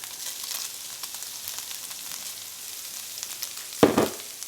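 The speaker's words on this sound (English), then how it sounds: "Now we're gonna go ahead and add in my diced jalapenos. I like to get a little saute on them before we add in the cheeses with the sausage." Diced jalapenos sautéing in a pan with sausage for a keto sausage Rotel dip give a soft, steady sizzle throughout, with a brief louder clatter of stirring near the end.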